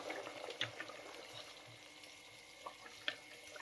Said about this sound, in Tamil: நல்லா கொதிச்சுக்கிட்டு இருக்கு